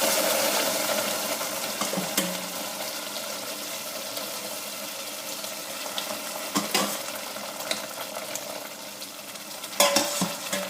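Tunisian mloukhia fries in a pot as a spoon stirs it, a steady close sizzle broken by occasional scrapes and knocks of the utensil against the pot.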